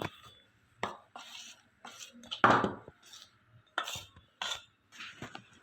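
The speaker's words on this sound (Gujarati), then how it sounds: "હવે આને મિક્સ કરી લેશું" Dry fruit biscuit dough being mixed in a bowl, irregular close clinks and scrapes of a spoon against the bowl with soft plops between, separated by short quiet gaps.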